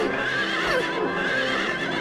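Horses neigh and whinny in Silent Hill 3, a close, continuous run of shrill, wavering calls lasting a couple of seconds, with faint hoof clip-clop underneath and no talking.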